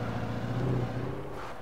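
A truck drives along a road in the video game Alan Wake, its engine giving a steady low drone with a faint hum above it, continuous and fairly even throughout, with no talk over it.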